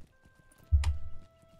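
Horse hooves clip-clopping in the video game Lord of the Rings Online, a brief cluster of close soft thuds as the mount sets off, with no talk.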